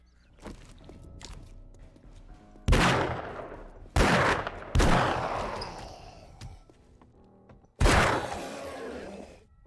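Pistol shots in 7 Days to Die, four loud, heavy single reports spaced a second or more apart, each with a long echoing decay, after quieter clatter at the start.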